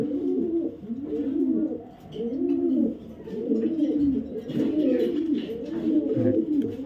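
Long-distance racing pigeons coo steadily in low, throaty rolling phrases, one after another close by, with no talking over them.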